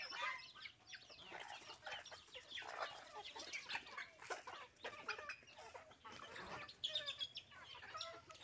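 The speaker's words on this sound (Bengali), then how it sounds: "তো বিকেলবেলা আমি হাঁস মুরগিগুলোকে এইভাবে খাবার দেই" A backyard flock of ducks and chickens clucks and chatters continuously while eating their afternoon feed, with busy overlapping calls close by.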